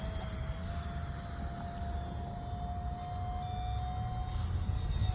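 A J35 brushless EDF RC jet flies overhead, its steady ducted-fan whine holding a thin, constant tone over a broad airy rush for several seconds, moderately distant and without talk.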